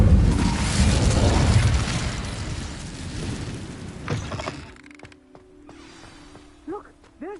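An Incendio fire spell is cast in Hogwarts Legacy, a loud roaring whoosh of flame with a crackling burst that fades into quieter ambience, followed by a few short chirping effects.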